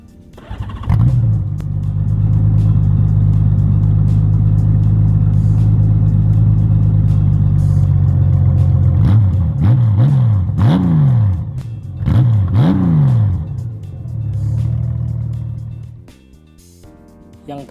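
A Honda Valkyrie six-cylinder motorcycle, a naked bike sharing the Goldwing's base, idles steadily, then revs in a run of sharp, close blips that swell and fall before settling back to a low idle.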